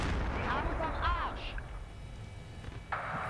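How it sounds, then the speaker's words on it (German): Rumbling booms and blasts roll through a dense Battlefield 3 soundscape, with whistling effects early on and a sharp burst near the end. "Da explodiert auch ordentlich was."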